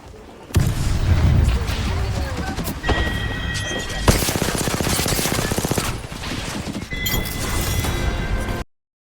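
Apex Legends match with loud, continuous bursts of automatic gunfire and a sharp blast from a grenade, dense and close throughout before cutting off abruptly, with game effects layered over the shooting.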